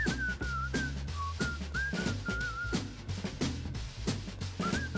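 A melodic whistled tune from the Fortnite Hüftpfeffer emote plays over a rhythmic game beat with bass thumps, loud and continuous with no talking.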